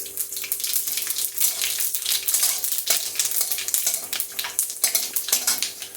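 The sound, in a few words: panch phoron spices frying in oil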